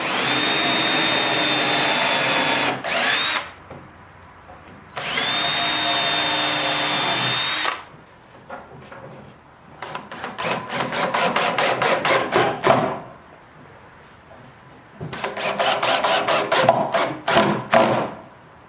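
A power drill driving screws into a thick butcher block workbench, with several long steady whirring runs broken by pauses and bursts of rapid ratcheting pulses, loud and close.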